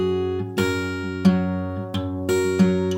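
A solo guitar works through the lead-in to the chorus of a song, with a droning low note under four or five bright strummed hits. Close, clean and unaccompanied.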